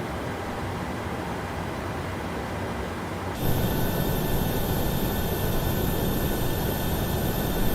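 Boeing 737-800 engines spooling up at start in a PMDG flight simulator: a steady broadband hiss and whine that jumps sharply louder partway through, then holds as a continuous, even roar with high tonal whine layered on top.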